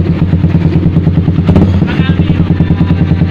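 A motorcycle fitted with a new Deang sai aftermarket muffler idles close by with a loud, rapid, even exhaust pulse that throbs without a break.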